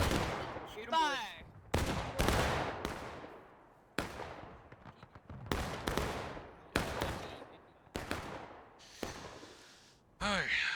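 Musket volleys crack out in the Civil War game War of Rights, a series of loud ragged multi-shot volleys with echoing decays, spaced a second or two apart, with shouted orders between them.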